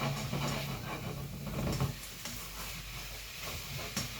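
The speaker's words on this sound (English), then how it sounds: "Can you hear that sizzle?" Soy sauce hitting a hot wok sizzles and hisses steadily under faint stirring and clatter, with a burst of steam softening into a quieter crackle partway through.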